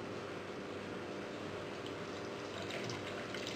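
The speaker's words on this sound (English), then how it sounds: "And put some water." Water streams steadily into a container of tamarind while pekasam is being prepared. The pour is a soft, continuous hiss that stays fairly quiet and even throughout, with no talking over it.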